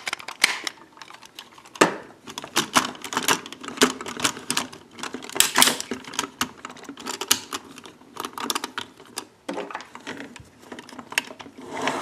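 Plastic pieces of a Legacy Tigerzord toy robot slide and click off to the side, a busy run of close, dry scraping and clacking taps over about twelve seconds, with no talk.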